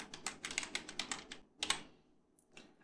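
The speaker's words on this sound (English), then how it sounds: "You can just type here, show databases." Quick bursts of keystrokes on a computer keyboard while a MySQL query is typed, a rapid run of clicks, a short pause, then a few final taps, close and fairly quiet.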